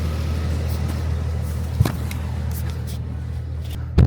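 Porsche 718 Cayman GT4 with a manual gearbox and auto-blip rev matching, heard from inside the car: a steady engine drone runs throughout, with two short blips or thumps, one midway and one at the end.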